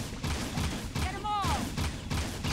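Gunfire from the video game Jak 2 crackles through a dense bed of game music and effects, with talk over most of it and a descending electronic whoosh partway through.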